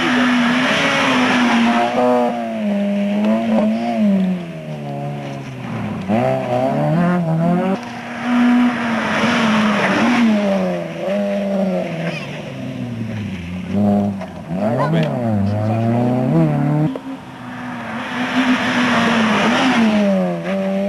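Rally cars racing past at speed on a stage of the Rallye Charlemagne 1999, loud engines rising and falling in pitch through repeated revving and gear changes as they pass close by, with no talk.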